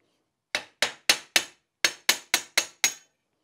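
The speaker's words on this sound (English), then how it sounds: "there's one more bushing in there we need to get out" Sharp metallic knocks drive a bushing out of a Porsche G50 pedal box: nine crisp, close hammer taps in two quick groups with a brief pause between, each decaying fast into silence.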